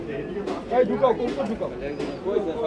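Pigeons coo and flutter at a crowded pigeon market in Bangladesh, soft repeated calls heard close under steady talking and bargaining voices.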